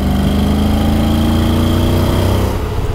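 A motorcycle engine drones loud and close during an overtaking manoeuvre on the road. The steady revving hum continues unbroken throughout, with no voices over it.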